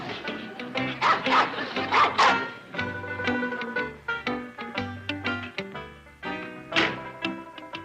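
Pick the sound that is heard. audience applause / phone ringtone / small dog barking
small dog barking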